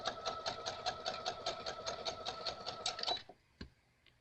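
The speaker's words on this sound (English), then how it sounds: "Just do a little top seam on there." A sewing machine runs a top seam across fabric scraps, a steady fast mechanical stitching rhythm for about three seconds, then stops with a single clunk in the quiet that follows.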